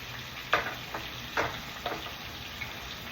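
Tuna sizzles in a pan of butter while a utensil scrapes and stirs, giving several soft clattering strokes over a constant frying hiss, close and without talk.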